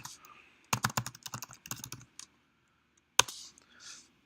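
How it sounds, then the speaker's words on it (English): Typing on a computer keyboard: close, crisp clicking keystrokes in quick uneven bursts, pausing for about a second before a short final flurry, with faint background quiet between. "remember to stop typing."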